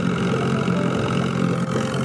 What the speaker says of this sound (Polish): Więc testujemy silnik od biedy.